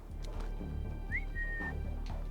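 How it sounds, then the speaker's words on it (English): A short rising whistle from the player character in the video game Splinter Cell, a single brief tone over steady game background and rhythmic low thumps, no talk. "we have a whistle button"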